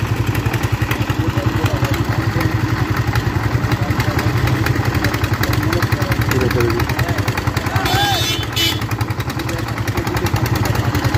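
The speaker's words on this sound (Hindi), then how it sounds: "ये गया जी ट्रैक्टर यहाँ से वापस" A tractor's chugging engine runs loud and close with a steady pulsing thump as it drives away, holding a fairly constant rhythm throughout.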